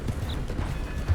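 Horse hooves clattering to a stop in Red Dead Redemption 2, a short burst of dense clip-clop steps close by, with no talk over it.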